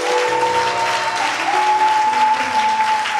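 A church congregation applauds, a dense, loud, sustained clapping from many hands in a hall with a held musical tone underneath.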